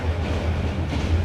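A passenger train rides the rails in Vietnam, heard as a steady low rumble of wheels and carriage with faint rhythmic clatter, close and continuous throughout.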